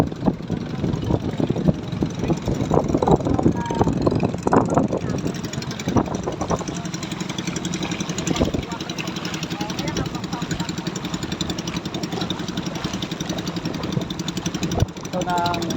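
A motor idles at a Lapu-Lapu fish cage in Alaminos, Pangasinan, with a steady chugging rumble and knocking throb, heard close, while people talk over it for most of the stretch.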